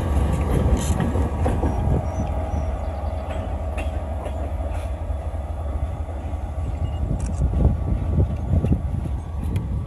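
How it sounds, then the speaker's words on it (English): A Tioga Central train hauled by a GE locomotive rolls past near Wellsboro, Pennsylvania, giving a loud, continuous rumble with rhythmic wheel clatter and faint squeals throughout. "Locomotive 6059. Going up to Tuggerham and Lake and then coming back."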